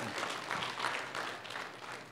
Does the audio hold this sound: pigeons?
no